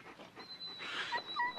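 A dog panting quietly in short rapid breaths, with a faint whimpering whine over a hushed outdoor background.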